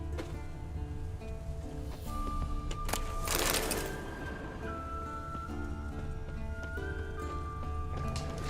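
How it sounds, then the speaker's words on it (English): Horse hooves clip-clop steadily with an occasional whinny in The Witcher 3: Wild Hunt, set against a dense layer of music and game ambience. "That's his horse. What's its name? Scorpion? Beautiful animal."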